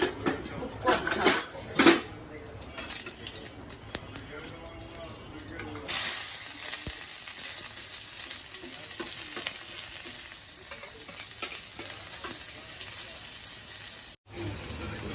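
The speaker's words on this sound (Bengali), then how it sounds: "পেঁয়াজ, রসুন, শুকনা মরিচ, কাঁচা মরিচ ভাজা হয়েছে।" Onion, garlic, dried red chillies and green chillies sizzle steadily in hot oil while being stirred in a pan, with a continuous close-up fry, utensil scrapes and a voice talking over it in places.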